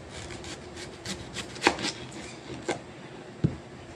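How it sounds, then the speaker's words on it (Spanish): A knife chops onion on a cutting board for pork tacos, giving a few sharp, uneven strikes that stand out clearly over quiet rubbing and scraping. "Vamos a picar la cebolla."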